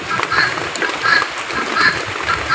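Repeated harsh, rasping calls of a female guinea fowl recur in regular bursts against steady background noise, loud and fairly close.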